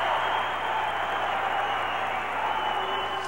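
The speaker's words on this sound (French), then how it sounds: "On l'applaudit." Television studio audience applauding, a dense steady wash of clapping that holds evenly through the short stretch.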